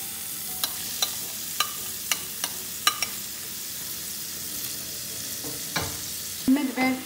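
Onion frying in melted butter in a pan, with a steady soft sizzle and a series of sharp utensil clicks, then a louder stirring scrape near the end.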